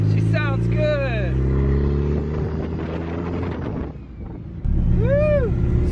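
Turbocharged Honda D16Z6 car engine with the booster removed, running steadily and loud as the car drives, with wind noise over it and people talking throughout.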